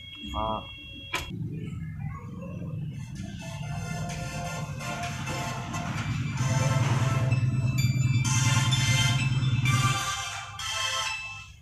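A mobile phone rings with an incoming call, its melodic ringtone repeating steadily for several seconds beneath talk and a busy background, growing louder before stopping.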